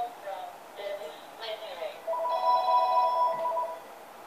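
A telephone rings with several bursts of electronic ringtone tones, close and clear, with a person speaking briefly over it.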